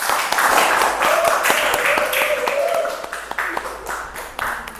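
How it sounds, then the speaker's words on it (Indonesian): A high school class claps hands in applause, a dense, fairly loud patter of many hands lasting several seconds before thinning out. "Oke, beri tepuk tangan."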